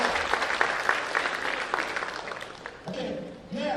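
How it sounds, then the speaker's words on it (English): Parents at a school senior meeting applaud in a brisk burst of clapping that fades toward the end as a voice starts to speak. "So parents, give another round of applause."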